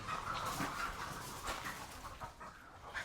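Chickens cluck in a coop, a quiet, busy murmur of short calls, with faint scratching and rustling nearby.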